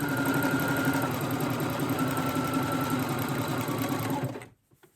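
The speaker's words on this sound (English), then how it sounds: "And now it's time to sew the side seams." A sewing machine runs a jersey top's side seam with a loud, continuous whirring hum that holds steady for over four seconds before cutting off abruptly.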